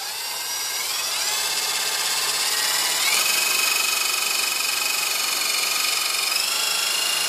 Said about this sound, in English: I'm gonna pre-drill this hole.